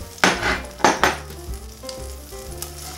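Pork loin sears in a frying pan with a loud, steady sizzle, broken by a few sharp bursts as the meat shifts or is turned; no one speaks.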